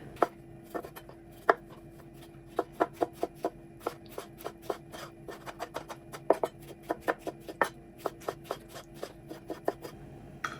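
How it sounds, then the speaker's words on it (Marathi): Knife chopping tomatoes on a cutting board for a Goan red masala beef curry, a long run of sharp, fairly close knocks in irregular quick bursts with short pauses, no voices. "आतां टोमॅटोज कातोरया."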